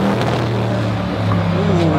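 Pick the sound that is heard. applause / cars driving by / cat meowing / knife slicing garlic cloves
cars driving by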